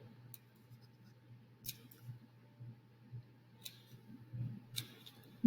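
Scissors snipping small paper dinosaur shapes for a prehistoric landscape craft: a few crisp, close snips at irregular intervals over a quiet, steady low hum, with no talking.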